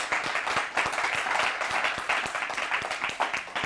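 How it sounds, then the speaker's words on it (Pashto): A studio audience at a Pashto television show claps for a mother, a dense and even burst of applause that carries on steadily throughout, with no clear voices above it. "بخاطر مادر جان یک چک چک خا کدیم"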